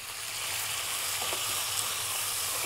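Two pounds of pork brown in a hot pan, giving a constant bright sizzle and fine crackling up close, with a few soft utensil touches and no voices.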